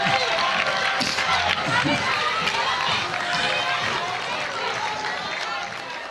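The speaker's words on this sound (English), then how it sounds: "Can we give them just one more round of applause?" A large audience at an awards ceremony gives a round of applause, steady and dense from the start and tapering slightly in loudness toward the end.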